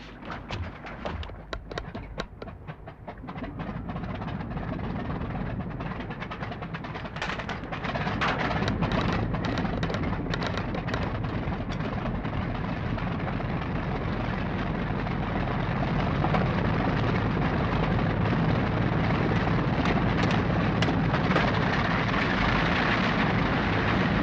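A zeppelin airship takes off with a loud, steady low engine drone that builds and holds throughout, rumbling like heavy idling machinery with no talk over it.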